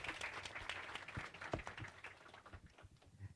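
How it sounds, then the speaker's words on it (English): An audience at an HR conclave on talent acquisition claps for a speaker, a fairly faint, scattered round of many hands that thins out toward the end. "Big round of applause."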